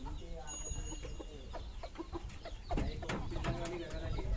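A rooster of a pure desi (gavthi) village breed clucks and chortles in short bursts close by, with other birds and faint background noise around it.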